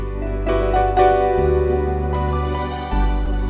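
An electronic keyboard playing its Shearing rhythm preset: sustained chords over a deep bass line, with new chords struck every second or so, alone and with no talking.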